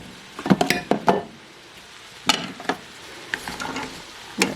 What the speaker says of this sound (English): Let's stir this around really good. We want the onion to be mixed in with the rest of the vegetables here.